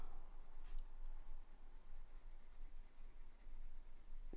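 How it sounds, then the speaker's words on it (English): A pencil scribbles big overlapping circles on paper to shade a Halloween Zentangle drawing, a soft, close, continuous scratchy rubbing with a gentle repeating rhythm. "take my pencil at that 3/4, do big circles and kind of fill in"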